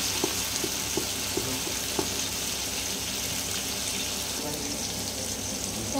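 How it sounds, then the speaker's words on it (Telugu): Tomatoes softening in hot oil in a pan for chicken curry, giving a steady, even sizzle at close range with a few light clinks, and faint voices in the background. "టొమాటో యాడ్ చేసి టమాటా కొంచెం మెత్తగా మగ్గనిద్దాం."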